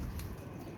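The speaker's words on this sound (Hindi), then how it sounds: "ये कबूतर है" A pigeon coos faintly and low, set against a steady background hiss, with no voices.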